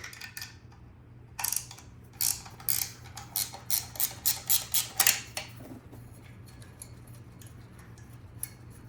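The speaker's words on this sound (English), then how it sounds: "And take this 13mm support bracket bolt out." A 13mm support bracket bolt on a 2.0T Audi/VW TFSI engine is backed out with a ratchet, giving a run of about a dozen quick, evenly spaced clicks after a brief opening click.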